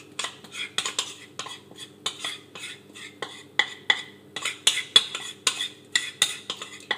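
A spoon scrapes and clinks against a bowl while stirring melted white chocolate into a cheesecake cheese mixture, a steady run of quick metallic taps and scrapes, close and fairly loud.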